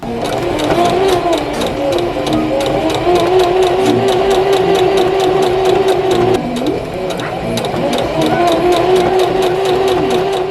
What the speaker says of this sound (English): then we're going to stitch along the seam allowance edge all the way down, pivot, and go back up